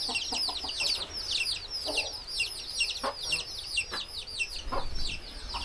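Hens on an organic hen farm cluck and chirp steadily at close range, a dense, overlapping chorus of short calls with a few louder clucks standing out.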